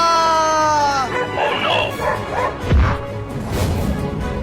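A cartoon dog barks and yips near a policeman who has just fallen from a tree, its sharp yelps breaking through whining tones and scattered comic effects at close range.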